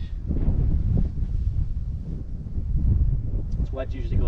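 Wind gusting across an open golf course, buffeting the microphone as a steady, loud low rumble that swells and eases, with a brief faint voice near the end.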